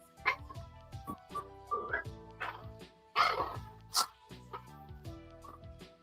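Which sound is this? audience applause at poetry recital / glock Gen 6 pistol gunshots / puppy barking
puppy barking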